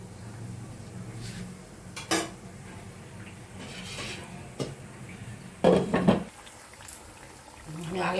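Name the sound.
fried bread pieces being put into sugar syrup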